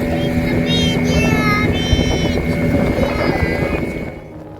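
A loud, steady boat motor drones throughout a ride from Gokarna to Om Beach, India, with wind buffeting the microphone and a voice briefly audible over the engine noise.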